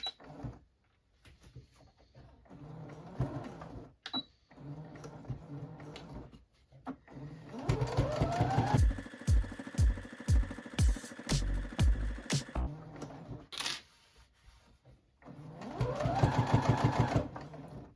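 A sewing machine stitches a rag quilt with batting inside, its motor running in close, steady bursts with quiet pauses between the runs of stitching.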